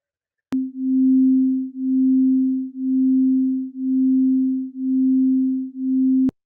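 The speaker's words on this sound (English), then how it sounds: "You hear that wobbling sound, and that wobbling sound is what's referred to as beat." Two pure electronic tones of slightly different pitch sound together, producing a steady, loud wobbling beat that swells and fades about once per second for six seconds, starting and stopping with sharp clicks.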